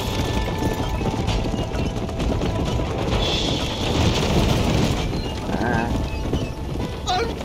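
A horse gallops in Red Dead Redemption, rapid rhythmic hoofbeats running continuously under loud game ambience with rain-like noise, a voice speaking over the ride.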